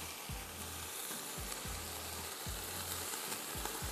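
Chopped green chillies hit a hot oiled pan for vegetable and chicken pulao, giving a steady close sizzle with a few soft stirring scrapes and no talk.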